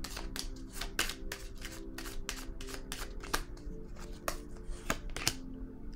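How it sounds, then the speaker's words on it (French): Tarot cards being handled and laid down on a table give a run of quick, soft papery flicks and slaps, close and faint, irregular but steady throughout. "je vais déposer encore une carte ici"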